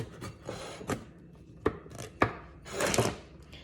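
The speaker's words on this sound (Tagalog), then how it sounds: "Hiwaon na nato siya." A knife chops food on a board in a home kitchen: several irregular, fairly quiet cuts and thunks with short scraping strokes between them.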